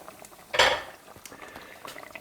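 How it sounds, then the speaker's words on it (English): Cheese and tomato curry over rice in a pot, given a brief stir: a loud scrape and clatter of spoon against metal, then soft bubbling and small clinks, close by. "I'm going to give that a little bit of a stir up"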